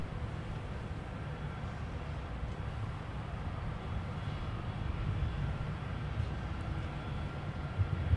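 An airplane takes off at Minneapolis–St. Paul (MSP) airport: a steady, distant, broadband engine roar that holds even and swells slightly toward the end, with no voices.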